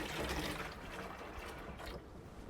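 Cold water running from a tap aboard a narrowboat, a steady close splashing flow that carries on throughout, with no one talking.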